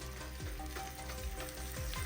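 Mail sizzling in a frying pan in a cooking video game, a soft steady fry with light shuffling of the contents, faint and without talk.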